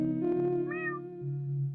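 A cat in the video game Detective Beebo meows once clearly and close by, one drawn-out meow over a steady musical drone with low game tones beneath it and no speech.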